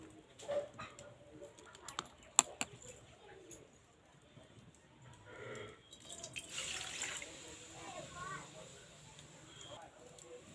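One cup of water pours into a pot on a lit stove for tulsi leaf tea. A faint, soft splashing pour comes midway over quiet room noise, with a few distant bird coos.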